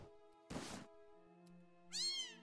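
A cat meows in a fantasy video game, two distinct meows, the first a short broad cry and the second a higher rising one, close and clear over a quiet sustained musical drone.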